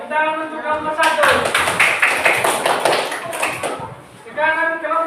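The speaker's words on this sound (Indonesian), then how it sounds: "Tepuk tangan untuk kelompok 1." Children in a classroom clap together for a group about to present, a dense burst of applause lasting a few seconds, with a teacher talking just before and after.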